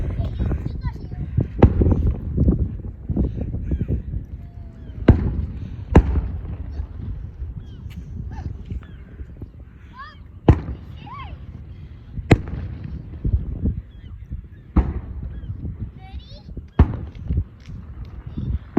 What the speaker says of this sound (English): I can hear fireworks